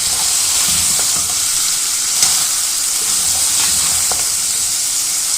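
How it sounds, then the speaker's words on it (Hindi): Cubed capsicum frying in a pan with minced keema, a loud continuous sizzle and hiss with occasional faint stirring scrapes and no talk. "अब इसको इसमें अच्छी तरह भूनूंगी 1-2 मिनट के लिए।"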